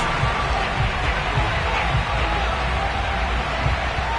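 A sold-out stadium crowd at a Patriots home game against the Arizona Cardinals in Foxborough gives a steady, dense roar with faint cheering throughout.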